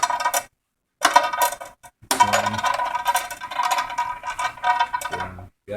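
A half-inch wrench tightens a nut during assembly of a U Turn Terminator machine: close, repeated metallic clicks and rattles in short bursts separated by brief pauses.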